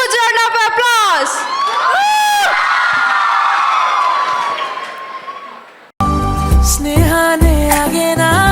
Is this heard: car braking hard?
no